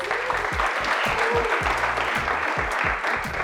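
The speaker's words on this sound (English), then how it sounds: "A very big thank you to my audience. You have been a lovely audience. Clap for yourselves." Studio audience at a campus debate show clapping, a continuous even round of applause with a faint murmur of voices underneath.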